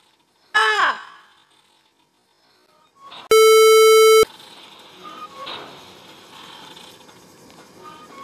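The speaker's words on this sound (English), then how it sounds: "Jump scare, that was a good jump scare though." Jump scare in the Roblox game Piggy, Book 2 Chapter 8 ship map: a sudden harsh screech, then a loud, piercing electronic tone held for about a second, followed by low game ambience.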